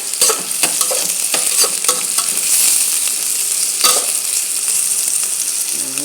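Ginger and onion sauté loudly in a pan, with a continuous close sizzle broken by repeated scraping and stirring strokes. No voices are heard.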